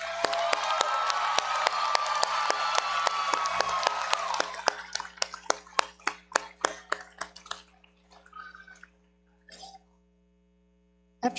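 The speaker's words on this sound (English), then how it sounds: "Let's give this group of graduates one more round of applause." Graduates at a university commencement ceremony receive a round of applause, first a steady, fairly distant wash of clapping that thins into scattered individual claps and fades to near silence.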